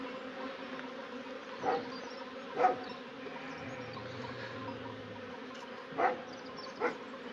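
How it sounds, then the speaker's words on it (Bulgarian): Live honeybees buzzing at a hive, a steady close hum that runs throughout, with a few louder swells as individual bees pass near. "имаме все още живи пчели."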